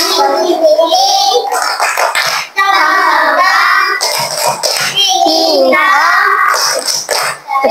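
A group of children claps in a rhythmic thank-you routine for another group, the claps mixed with their loud chanting voices in a classroom.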